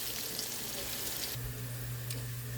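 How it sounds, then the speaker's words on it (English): Thin-cut pork chops frying in a pan until golden brown, a steady close sizzle with faint crackle and a low hum joining partway through. "I fry them for like 3 minutes on one side and then flip them over."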